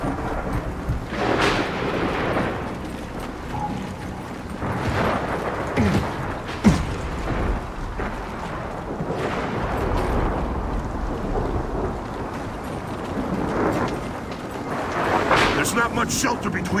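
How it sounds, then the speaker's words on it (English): Thunder rumbles through a wind flare storm in the video game Gears of War 4, with rain and gusting wind sustained throughout and several rolling thunder swells, while voices talk over it. "we got another wind flare"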